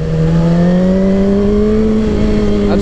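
A 2007 Suzuki GSX-R 1000 litre-bike engine pulls hard in first gear during a road ride, a loud, continuous, close-up drone whose pitch rises steadily throughout, with no talking.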